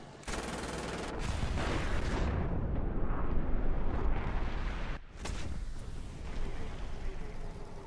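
Tank cannon fire and battle noise from the War Thunder video game: loud, dense booming blasts and crackling gunfire fill the scene, with a sharp break midway before the roaring barrage resumes.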